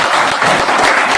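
Audience applause at a Hindi daily newspaper's eighth annual celebration in Dadar, a steady dense wash of many hands clapping at once, loud and continuous across the moment with no pauses.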